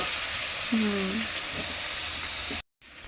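Meat frying in hot oil in a pan while being cooked down for kosha, giving a steady close sizzling hiss throughout. A voice speaks briefly over it before a short cut to silence.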